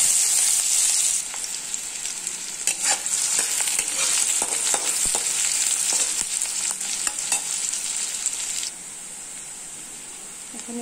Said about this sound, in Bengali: এখন এটাকে ভালো করে সবগুলোকে এখন ভালো করে ভেজে